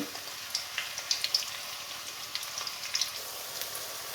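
Chopped onions frying in oil until crisp for a shrimp and Malabar spinach curry, a faint crackling sizzle with scattered sharp pops. No one speaks.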